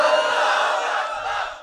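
A large congregation at an Islamic sermon shouts takbir in unison, a dense roar of many voices that holds steady and then fades out near the end.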